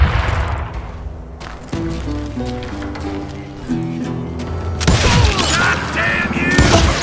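Gunfire in the Western game Call of Juarez: Gunslinger, with shots and bursts over a tonal musical score; the firing grows louder and denser in the final seconds.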